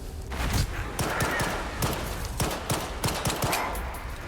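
Rapid bursts of gunfire in S.T.A.L.K.E.R. 2 crackle in quick succession, loud and close, with short gaps between volleys.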